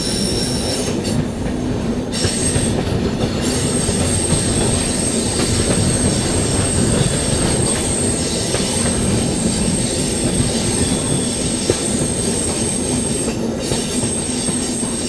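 A Duronto Express, the Nizamuddin–Secunderabad service, runs at night, heard from inside as a loud continuous rumble of wheels on track with steady rhythmic clatter and high wheel squeal throughout, no voices.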